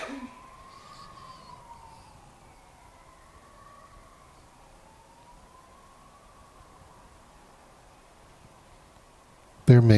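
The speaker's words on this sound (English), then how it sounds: "And while sitting, there's the noise of sirens" Emergency vehicle sirens wail faintly in the distance, pitch slowly rising and falling over a quiet background, then a sudden loud burst at the very end.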